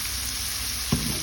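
Garlic and shrimp paste stir-frying in a pan, a steady close sizzle with a brief scrape of stirring near the end, and no talking.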